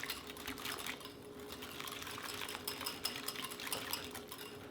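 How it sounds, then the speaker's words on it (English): Ranch dressing ingredients, including apple cider vinegar, are whisked together in a bowl, giving a faint, continuous scraping and clinking swirl that carries on steadily without pauses. "Or whisk these all in there."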